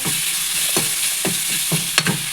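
Ginger fries in a pan while cooking prawns, a steady close hiss with several spatula scrapes and stirs, and no voices.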